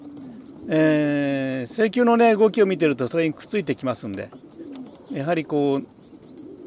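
Young pigeons on their first outing from the loft coo softly in the background while someone speaks over them in the foreground, his voice dominating throughout.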